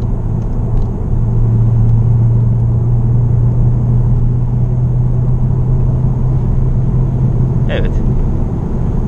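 A VW Arteon R-Line 2.0 TDI cruising at about 120 km/h, a loud, steady low engine drone and road rumble filling the cabin throughout.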